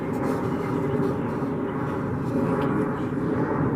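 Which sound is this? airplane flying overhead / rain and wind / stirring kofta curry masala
airplane flying overhead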